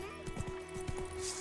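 Horse hooves clip-clop in a few quick steps while riding in The Witcher 3 on PC, with a steady tonal hum underneath and a faint hint of a whinny, all fairly quiet.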